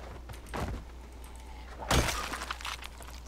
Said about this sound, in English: Sure, step on glass, make some noise.